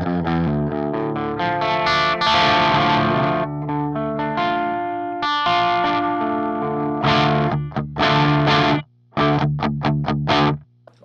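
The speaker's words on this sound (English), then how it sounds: "this is how the clean channel of the amplifier sounds without the pedal" An electric guitar plays through an amplifier's clean channel with no pedal, loud chords and riffs ringing close, broken by sharp stops and short gaps near the end.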